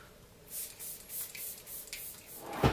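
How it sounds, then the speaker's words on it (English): Hourglass makeup finishing spray misted onto a face, several soft airy hissing puffs close by, followed by a brief faint voice at the end. "I am going to use their finishing spray."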